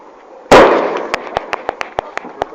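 A fireworks bomb bursts on the ground with one loud, sharp blast. A quick string of crackling pops follows and slowly fades.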